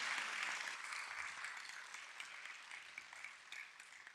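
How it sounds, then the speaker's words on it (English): Steady applause from an audience at a county supervisor swearing-in ceremony, a soft, even patter of many hands that gradually thins over a few seconds, heard at a distance with no talking over it. "Yes, round of applause."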